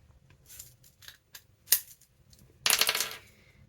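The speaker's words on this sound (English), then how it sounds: "basically I'm cutting underneath Wordsworth" Scissors snip through paper while making an envelope pocket, giving several crisp separate cuts close to the microphone and then a longer, louder slicing stroke.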